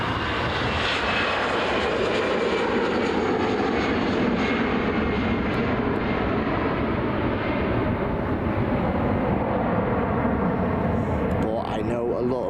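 A jet airliner takes off at Dublin Airport with a loud, sustained engine roar that fills the scene, holding steady throughout as a voice talks over it.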